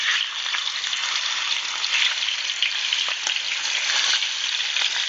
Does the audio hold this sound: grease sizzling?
yes